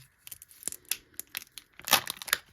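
A Kinder Surprise egg's foil wrapper torn open by hand, a series of sharp close crinkles and rips in uneven bursts that grow louder toward the end, with no talking.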